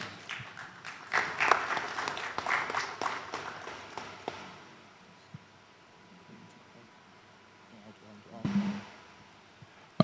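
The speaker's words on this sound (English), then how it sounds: "Please, a round of applause." Applause from a conference audience at an African tech funding event breaks out loudly at first, then tapers off over about four seconds into near silence, with a brief burst of noise later.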